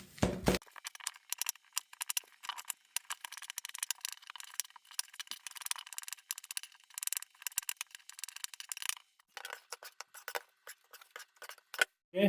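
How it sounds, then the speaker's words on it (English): Herb scissors with multiple blades snip through fresh washed cilantro in a kitchen, giving a steady run of quick, close, crisp clicks and cuts that go on without a break, with no talking. "I got my cilantro wash, and I got my my handy dandy herb scissors"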